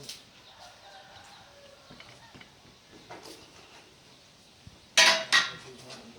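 A chicken clucks faintly at a house where a light fixture is being installed, with clattering of dishes or utensils and a loud burst of clinking near the end.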